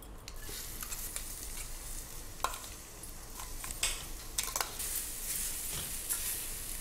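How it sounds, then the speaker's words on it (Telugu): Pieces of coconut fry in a tablespoon of ghee in a pan for coconut laddu, giving a steady soft sizzle broken by occasional scrapes and taps of a stirring spoon. "మనం కొబ్బరి కొంచెం స్మెల్ పోయేదాకా వేయించుకోవాలి"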